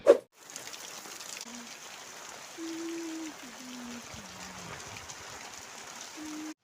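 Steady rain falls on a tiled-roof house as a constant, even hiss. A sharp knock comes at the very start, and a faint voice is heard intermittently over the rain.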